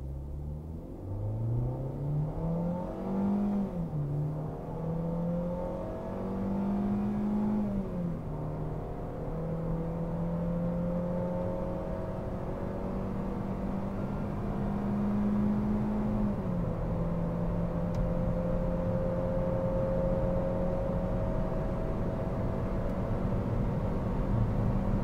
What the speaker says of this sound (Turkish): Şimdi isterseniz bir 0-100 hızlanmasına bakalım.